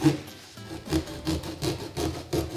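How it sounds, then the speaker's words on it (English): A knife saws into a pumpkin with repeated rough rubbing and rasping strokes, about six rhythmic close cuts, with no talking. "And now I'm gonna try using their knife to cut open the pumpkin."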